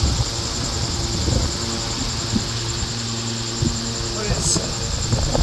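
A 775 high-speed electric DC motor runs steadily, giving a continuous whirring drone with a high whine, under someone talking in Bengali.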